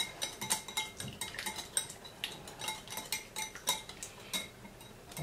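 Spiny lobster vanilla marinade stirred in a dish, a string of light clinking taps of utensil against the container in an uneven rhythm, close and fairly quiet.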